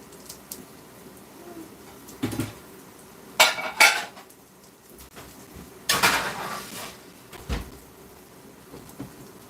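Ceramic plate and cutlery clatter while plating cooked pork, with a few sharp clinks and scrapes spread over several seconds against quiet kitchen background.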